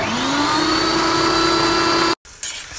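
Kitchen blender whizzing a Thai dressing of lime and sesame oil, a loud steady motor whine that holds a constant pitch, then cuts off abruptly near the end.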